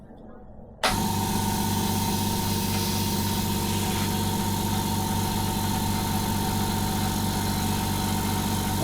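A Hyundai HY7524 Super Silent air compressor switches on abruptly and runs continuously, a steady close motor hum with a strong tonal whine that holds level to the end.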